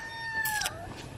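A single brief, faint call from a feathered-footed Brahma or Marans chicken, rising and falling tonally over light background noise.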